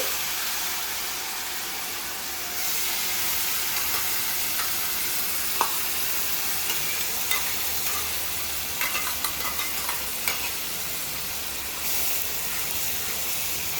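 A steady, broad sizzle of thick onion-tomato paste frying in a pan, with occasional soft scrapes and pops from stirring throughout.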